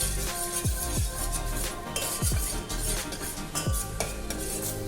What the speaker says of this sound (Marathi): छान थोडं परतून घ्यायचं आहे आणि मग दूध घालायचं